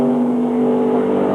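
1994 NASCAR Winston Cup stock car engines roar steadily during Brickyard 400 pole qualifying at Indianapolis Motor Speedway, a loud, sustained buzzing drone with no talk over it.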